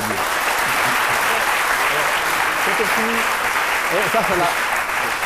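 Dense, even applause from a studio audience on a French midday talk show, filling the whole moment with continuous clapping while a voice speaks faintly underneath.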